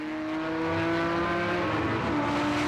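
Engine of a Ferrari 365 GTB4 Daytona racing car holds a loud, steady drone with a sustained harmonic tone and a slight pitch shift near the end.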